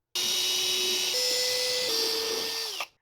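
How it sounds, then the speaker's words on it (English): A power drill whines steadily for nearly three seconds while building a wooden bookshelf, its pitch stepping up and down slightly before winding down to a stop; close and loud. "So I'm going to use this drill."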